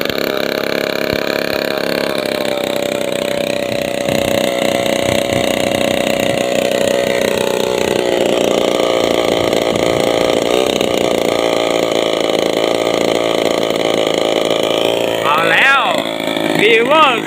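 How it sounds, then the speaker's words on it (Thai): A small 40cc agricultural engine fitted to a large RC aircraft runs continuously at a steady, buzzing drone, close and loud, with a slight pitch wobble near the end. "เครื่องยนต์เกษตร40 cc"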